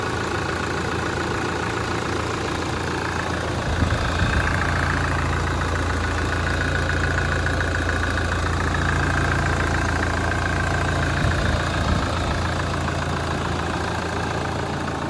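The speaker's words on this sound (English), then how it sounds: "engine sound is perfect." A Hyundai Terracan 4x4 engine idles steadily and close by, a constant low rumble with light knocking texture and no voices.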